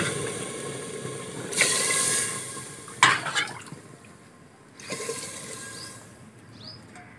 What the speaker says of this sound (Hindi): इसमें हम पानी डालते हैं।